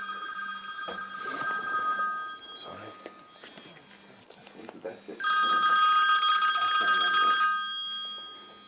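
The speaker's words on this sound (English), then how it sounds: "I think that was why the phone was going earlier." A telephone bell rings in loud, bright bursts from indoors, one long ring early and another later, while people talk in the room around it.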